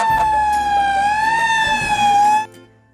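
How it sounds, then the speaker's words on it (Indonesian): A loud, steady fire truck siren wail with a slowly wavering pitch sounds close by, then cuts off abruptly near the end. "Di sini ada truk pemadam kebakaran."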